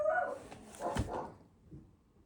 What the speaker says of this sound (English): And the dogs are barking at the mailman